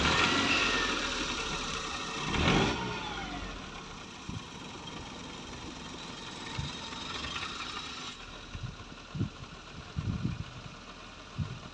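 A car engine runs at a steady idle during a driving lesson, a low continuous hum with a louder surge near the start and scattered soft knocks and thumps later on.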